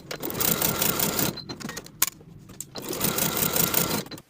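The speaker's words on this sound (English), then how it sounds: "Sew both side seams with a 1/2 inch seam allowance and press the seams open" A sewing machine stitching the side seams of a kids' pants waistband, running in rapid close bursts with a short stop and a click in between before resuming.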